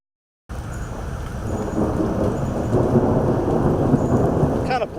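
A strong thunderstorm over the Evansville area on a Thursday afternoon, heavy rain hissing steadily with low thunder rumbling underneath, starting abruptly after a moment of silence and building louder throughout.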